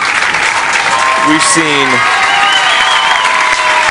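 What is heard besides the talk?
crowd applause at baseball game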